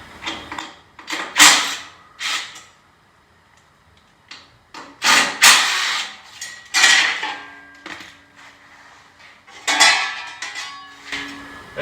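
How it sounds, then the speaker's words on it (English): Half-inch bolts come out of a Ferris Z3X zero-turn mower in bursts of close metallic ratcheting, scraping and clinking, separated by short quiet gaps. "I'm going to take these 1/2-inch bolts out from right here."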